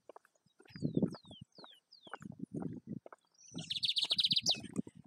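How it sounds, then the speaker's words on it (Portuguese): Small birds chirp and sing outdoors at a family home in Brazil, with a string of quick descending high whistles followed by a dense, bright trill near the end, over low rustling background noise. "Os passarinhos."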